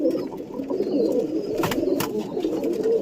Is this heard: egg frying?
no